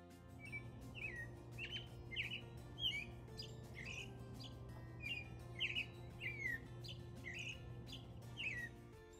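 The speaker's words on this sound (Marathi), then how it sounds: "बेडरूमची विंडो ओपन करून पाहिलं तर बाहेर पक्ष्यांचा किलबिलाट चालू होता।" Birds chirp outside an open bedroom window at dawn in Canada, repeated short bright calls at a fairly regular pace over a low steady hum, moderately distant with no voices.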